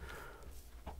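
Chickens in Minecraft cluck softly in a short burst, a couple of faint blocky clucks near the end over a low background hum.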